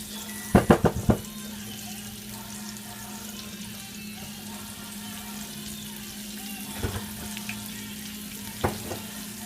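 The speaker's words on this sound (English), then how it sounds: "I'm just going to lay it in the grease and let them fry lightly" Floured turkey wings fry lightly in grease, a steady soft sizzle running throughout, with a few sharp clinks and knocks near the start and again toward the end as pieces are placed in the pan.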